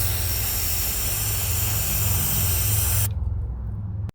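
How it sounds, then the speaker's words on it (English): Brake cleaner sprayed from an aerosol can onto a Jeep Cherokee alternator, a loud, continuous close-up hiss lasting about three seconds before stopping abruptly. "Clean this out with a little brake cleaner."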